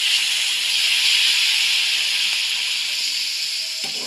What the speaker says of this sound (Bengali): আলু মশলা খুব ভালোভাবে কষিয়ে নেওয়ার পর দিয়ে দিলাম জল।